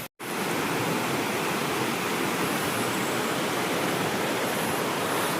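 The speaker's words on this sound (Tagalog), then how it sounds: "Maingay masyado yung yung river." A river at a campsite rushes loudly and continuously, a dense, even roar of flowing water close by with no other sounds breaking through.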